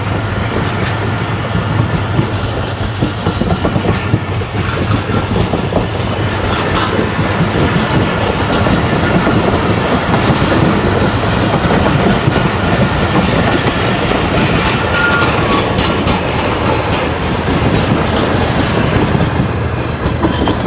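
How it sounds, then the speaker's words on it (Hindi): A train passing Jungshahi station at speed, a loud continuous rumble of wheels and rail clatter heard close by and sustained throughout. "ट्रेन अच्छी स्पीड के साथ जंगशाही को थ्रू पास कर गई।"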